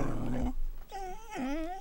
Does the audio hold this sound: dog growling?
yes